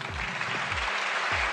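Virtual applause greets the technical head as he is invited to speak at an online session, a steady wash of clapping at moderate level that runs the full length with no voices.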